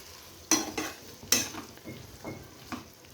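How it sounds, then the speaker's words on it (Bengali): Fried potatoes stirred into a mini chicken curry in a pan: a steady sizzle with a few sharp metal-on-pan scrapes of the spoon, close and distinct, no voices. "এবার আলুগুলো দিয়ে দেবো ভেজে রাখা, দিয়ে এবার কষিয়ে নিব।"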